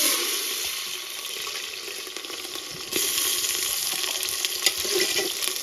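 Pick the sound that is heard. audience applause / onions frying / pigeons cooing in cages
onions frying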